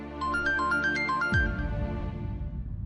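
Mobile phone ringtone chiming a short repeated electronic melody, then cut off abruptly by a low thud and background hum.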